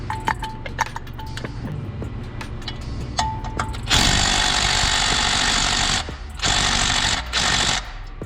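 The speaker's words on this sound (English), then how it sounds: "All right, so we're gonna pull the clutch off now." A power tool works on removing a car's clutch, with bursts of loud, close rattling buzz after scattered metallic clicks and clanks of tools.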